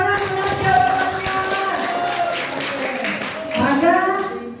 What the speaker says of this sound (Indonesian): Oke, tepuk tangan dengan jawabannya.